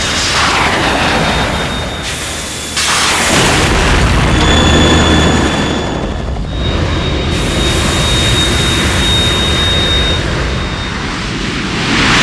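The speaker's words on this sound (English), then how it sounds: "The Kasaka can't stand up to the Harrier. You have to shoot the Harrier down." A Harrier jump jet roaring in the Metal Gear Solid 2 video game, a loud, continuous jet engine rush with thumping blasts and surges layered through it.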